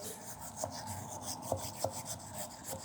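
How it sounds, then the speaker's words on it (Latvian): Steady scratchy rubbing from a stiff steel wire brush scraping inside a narrow 13 mm drilled hole, back-and-forth strokes with a few sharper scrapes, close and moderately quiet. "Šīs ir tērauda tīrīšanas birstes urbumiem dažādos izmēros"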